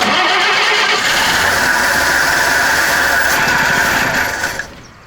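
A 1954 Chevrolet Bel Air engine cranks and catches, then runs loud and rough for several seconds before cutting off abruptly near the end.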